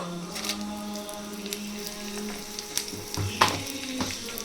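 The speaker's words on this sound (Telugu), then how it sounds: "పోపుకి నూనె పోసుకుందాం జీలకర్ర ఆవాలు" A tempering of cumin, mustard seeds and dried red chillies fries in hot oil, crackling and spitting in quick irregular pops over a steady sizzle, close and lively.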